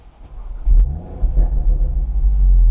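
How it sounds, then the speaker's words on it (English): A stock 2018 Audi RS3 engine turns over on a warm start and settles into a deep, steady idle rumble, close by, with no talking. "I just wanted to also show you the warm start."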